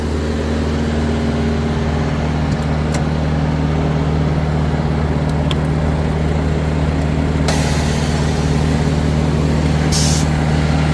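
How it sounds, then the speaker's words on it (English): A semi truck's air brake valve is pulled and set during trailer disconnection: a steady low engine idle drones throughout, broken by two short hissing bursts of released air. "First, I got to pull the air brake."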